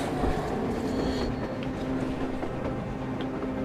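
A train rolls across the surface in Metro Exodus, a steady low rumble with a sustained mechanical hum, moderately loud and continuous, no voices.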